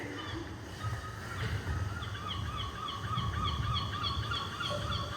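A bird calls repeatedly in short honking notes over a low background rumble, moderately close.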